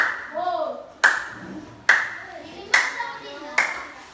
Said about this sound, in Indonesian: Oke, tepuk tangan yang meriah untuk Raffi.